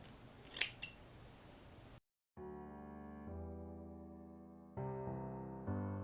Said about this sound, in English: I'm just gonna go ahead and cut away the extra lace in the front as usual